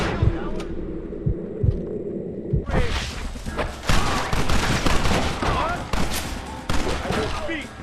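In a Red Dead Redemption army gate assault, a few isolated shots ring out at first. Dense, loud rifle and machine-gun fire then erupts and continues under shouted in-game dialogue.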